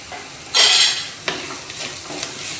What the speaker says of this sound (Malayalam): അതും കൂടെ എണ്ണയിൽ കണ്ടിട്ടൊന്ന് ഫ്രൈ ആവട്ടെ